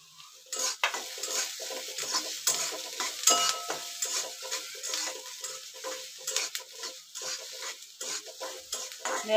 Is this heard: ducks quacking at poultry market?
no